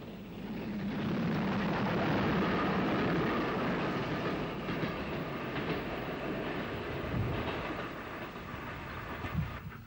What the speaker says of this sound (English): Another WT with a Dublin-bound train speeds through the maze between Lisburn and Lurgan.